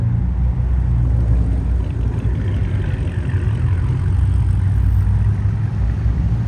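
Several cars rolling back in at a night car meet in Mexico, a steady low engine rumble and idle droning continuously with no break, fairly loud and close.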